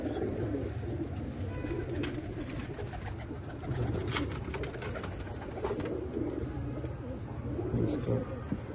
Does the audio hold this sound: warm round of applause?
no